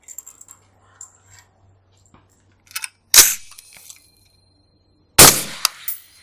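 A 5.56 rifle fitted with a PTR VENT Spiritus suppressor fires two loud, close, muffled shots about two seconds apart, preceded by quiet clicks and handling noises.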